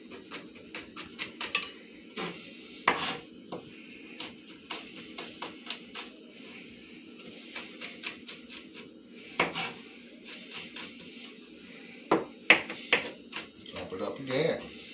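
Knife chopping celery and habanero peppers on a cutting board, with irregular clustered taps and knocks, some sharp and louder, among kitchen clatter while a person talks intermittently.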